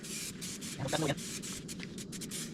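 Rust-Oleum outdoor fabric paint hisses from a spray can nozzle in several short close bursts, with a voice heard faintly underneath.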